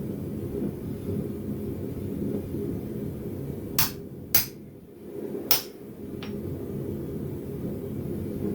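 A blacksmith's drop forging strikes hot metal for a pair of tongs, giving three or four sharp, ringing hits in an uneven cluster over a low background rumble.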